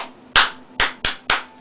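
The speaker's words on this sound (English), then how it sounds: "sometimes I clap a beat" Four sharp hand claps beat out an uneven rhythm in a classroom, close and loud, with a short gap before the second clap and quicker claps after it. No one speaks.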